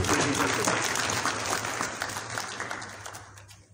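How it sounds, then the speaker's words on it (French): Audience applause at the closing of the Chadian diaspora's national dialogue consultations, a steady dense clapping that holds loud for several seconds and tapers toward the end. "Applaudissez pour"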